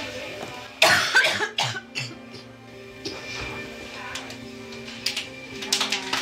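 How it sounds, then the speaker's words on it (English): A single close cough in a busy hospital A&E department, sharp and loud, followed by softer throat sounds and background chatter and beeping equipment. "I need to cough."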